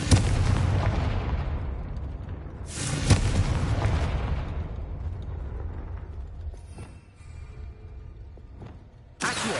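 The Bombarda blasting spell in Hogwarts Legacy: deep, booming explosions, with one at the start, another a few seconds later and a sharp final blast. Each boom rumbles and fades slowly.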